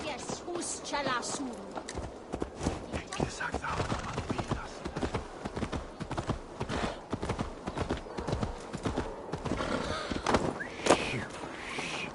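Horse hooves clip-clop in a steady rhythm, nearby, with a horse whinnying a couple of times, while people talk over it.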